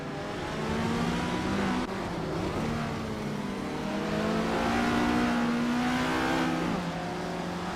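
Race cars accelerate hard in a continuous loud roar, several engines overlapping with rising and falling pitch as they battle for position during a video game race.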